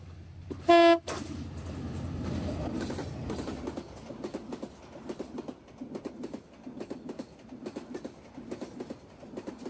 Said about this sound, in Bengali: এই সেই ট্রেন।